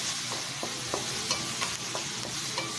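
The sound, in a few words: white onion and finger pepper sautéing in margarine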